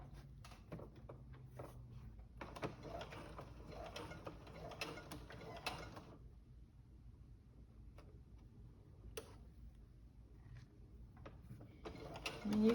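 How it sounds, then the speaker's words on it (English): Sewing machine stitching fabric for a toddler romper, a steady mechanical ticking and whirring that runs in bursts with short pauses, close and moderately quiet, with no talking. "We're going to start sewing this."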